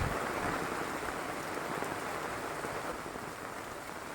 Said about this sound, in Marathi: बघू शकता तुम्ही किती मोठा पाऊस आलाय